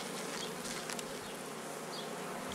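Honey bees buzz steadily around an opened hive during a box change in an apiary, a dense continuous close hum with no talking.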